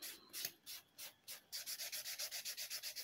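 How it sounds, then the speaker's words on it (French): A gel fingernail being buffed and lightly scratched with a file, close and quiet: a few slower strokes, then a quick even run of short rubbing passes. "je vais venir polir mon ongle, le rayer légèrement"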